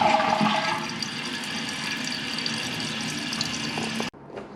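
A newly repaired household toilet flushes with a loud, rushing gush of water as the tank refills, steady for about four seconds before cutting off abruptly to a quieter trickle.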